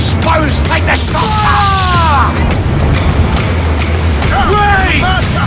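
Ship cannons fire in Assassin's Creed IV Black Flag, with loud, deep booms rolling under shouting crew voices through a noisy naval battle.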